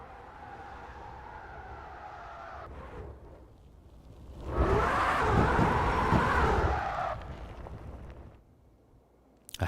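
A drift car engine at a drift championship drones at a distance, then swells into a loud, roaring pass for a few seconds before fading back to a low rumble.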